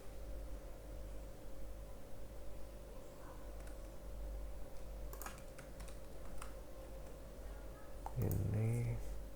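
Keys clatter on a computer keyboard in quick, soft, close bursts over a steady background hum, ending with a firmer press of the enter key; a brief dog whimper follows.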